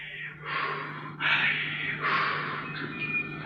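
A deep, audible breath drawn in and let out several times in slow waves, close and breathy over a low steady hum, with no talking.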